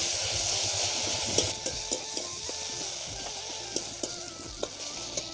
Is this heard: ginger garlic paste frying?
yes